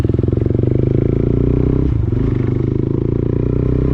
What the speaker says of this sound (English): Bike sounds pretty damn good